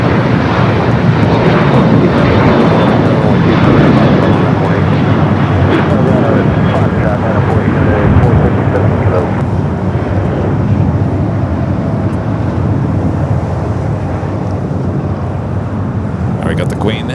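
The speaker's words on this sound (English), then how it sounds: "Sun Country taking off here on the south side." A Sun Country airliner takes off from the south side of LAX, its jet engines roaring loud and sustained, then slowly fading as the plane climbs away.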